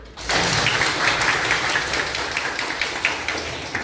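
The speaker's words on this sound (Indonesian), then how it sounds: "Tepuk tangan." Children applaud together at a school gathering, a dense, steady burst of clapping that starts abruptly and holds at full strength without talk.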